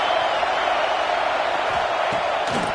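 Stadium crowd in a college football video game, Alabama vs Georgia, holding a steady, dense roar from start to end with no single cheer standing out.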